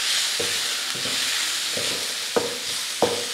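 Spices such as coriander powder, cumin powder and salt being stirred in a pan while making a bakery-style chicken roll filling, giving a steady sizzling hiss broken by five scraping stirs, the last two sharper and louder.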